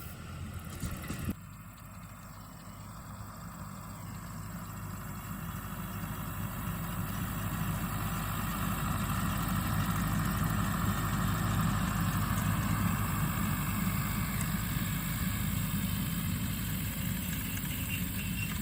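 A four-wheel drive tractor works on a farm field spreading manure, its diesel engine a steady low rumble that swells gradually and holds at a loud, even drone.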